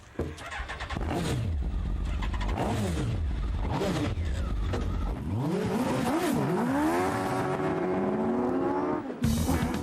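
A four-wheel-drive car built to break the 0 to 60 world record revs hard and accelerates through several rising gear changes, loud and close, with no talking.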